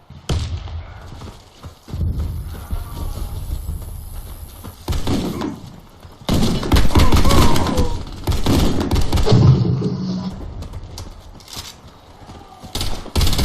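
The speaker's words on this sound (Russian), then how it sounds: "Кидаю гранату!" Video game combat with a grenade throw and gunfire, loud bursts of shots and heavy thumps coming in waves with brief quieter gaps.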